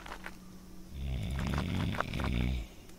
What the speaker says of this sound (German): Oder sind die hier so am Schnarchen?